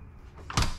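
Residential-style French-door refrigerator freezer in a 2022 Grand Design Solitude 390RK RV with a rear kitchen: a single short thump of a door opening or closing, close and fairly loud, after a quiet moment.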